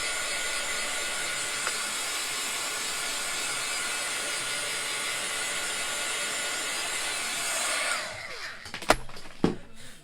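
A handheld heat tool blows hot air over chalk paste on a crafting transfer, a steady loud whooshing hiss that runs evenly before cutting off near the end, leaving a few clicks and knocks.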